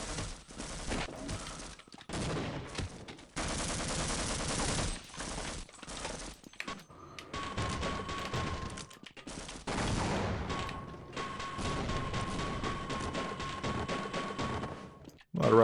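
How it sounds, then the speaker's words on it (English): Rockets and grenades blasting repeatedly in the Half-Life game, a dense, continuous barrage of explosions and gunfire with brief gaps, loud and close throughout. "A lot of rockets. Who is grenading me?"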